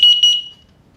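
A battery-operated combination smoke and carbon monoxide detector in test mode sounds a loud, piercing high-pitched beep with a brief stutter, then fades out within about half a second, close and alone.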